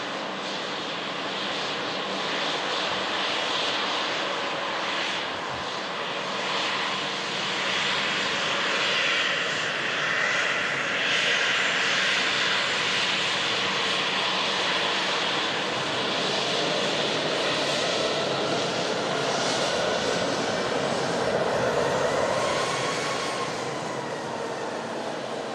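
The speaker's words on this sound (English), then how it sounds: "Got an Air France taxiing in as well. Little Embraer E190 long range coming in from Paris," An Air France Embraer E190 jet taxiing in at an airport, a broad steady engine roar and whine that swells slightly and holds, moderately near, with no talk.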